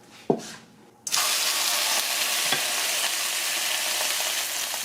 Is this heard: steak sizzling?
yes